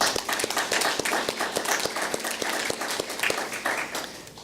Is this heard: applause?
yes